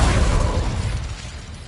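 A fire spell bursts out in a video game, a loud rumbling blast strongest at the start that fades over about a second and a half, with no talk over it.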